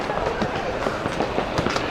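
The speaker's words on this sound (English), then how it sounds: "Ah, yes, the big fireworks." Fireworks burst at a festival in Kobe, Japan, a string of distant muffled pops and crackles under crowd murmur and nearby voices.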